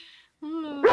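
A pet dog indoors at home lets out a rising whine, then one sharp close bark at the end, with faint room noise before it.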